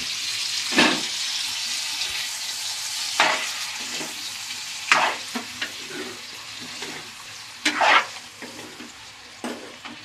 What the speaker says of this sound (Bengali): এবার এইভাবে আমি নাড়াচাড়া করব।